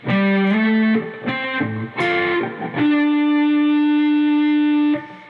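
An electric guitar plays the riff slowly with a distorted tone, a series of picked notes and short phrases ending on a long sustained note with vibrato that rings for about two seconds.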